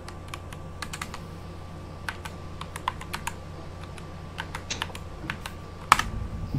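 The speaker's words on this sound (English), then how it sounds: "test the keyboard with a game or a type race" Keys on a Corsair K100 RGB optical keyboard are tapped in irregular bursts, crisp close clicks spaced out over a low room hum, ending with a louder clack.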